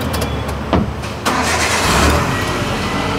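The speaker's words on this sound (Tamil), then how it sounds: "வண்டியை ஸ்டார்ட் பண்ணி உங்களுக்கு காமிக்கிறேன்." A used car at a dealership in Tirupur starts up close by, a short crank and catch followed by a steady loud idle, with no talking over it.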